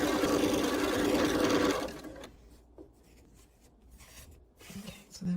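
Sewing machine stitching quilt pieces for a nine-patch star block runs fast and steady for about two seconds, then stops, leaving quiet handling noises and a soft thump at the end.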